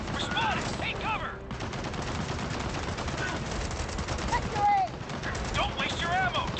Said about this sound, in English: Machine gun nest.